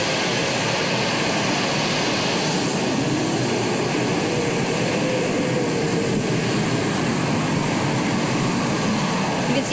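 A super modified pulling tractor powered by three T64 turbine engines roars continuously at a tractor pull in Henry, Illinois, a loud, dense turbine whine with a rising and falling tone, heard from a distance.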